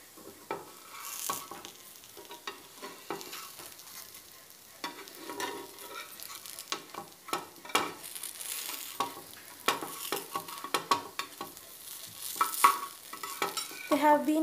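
Dry masala idlis fry in a pan and get turned over with a utensil. Soft sizzling runs throughout, with steady stirring and scraping, some sharper clinks near the end. Close by, and no one speaks.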